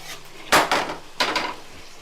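Plain, pre-soaked basmati rice poured into a pot and stirred, making two close, loud gritty rattling bursts against the metal, each followed by a briefer scrape.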